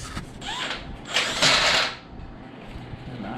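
A power drill whirs in a short burst of just under a second amid low workshop background noise, with fainter mechanical sounds before and after.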